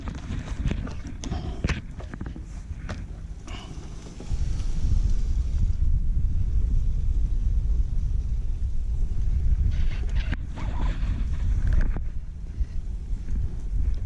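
Wind buffeting a microphone on the water while kayak fishing in a current near Charleston, South Carolina, heavy low rumbling gusts swelling loudly after a few seconds and persisting, with faint bumps and splashes early on.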